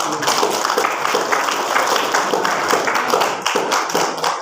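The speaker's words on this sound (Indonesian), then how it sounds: "Tepuk tangannya dulu." Junior high school students applaud together during a New Year religious lecture, a dense, steady patter of many hands clapping close by that fades out near the end.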